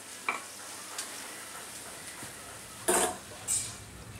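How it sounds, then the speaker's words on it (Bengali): Chicken and vegetable stir fry in a pan gives a low steady sizzle, broken by a few sharp spoon scrapes and clinks, faint and close. "হয়ে গেল আমার চিকেন স্টিয়ার ফ্রাই"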